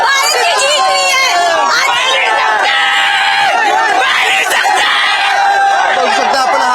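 A dense crowd at a protest in Delhi shouts, cheers and yells together in a loud, continuous roar of overlapping voices celebrating, close and unbroken throughout.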